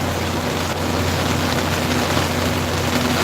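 Steady, heavy rain drums on and around a freight truck, a loud continuous hiss close to the cab with a low rumble beneath it and no voices heard.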